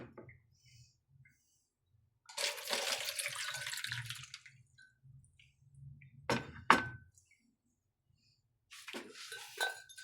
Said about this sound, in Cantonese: 我頭先攞隻手擋住，慢慢倒水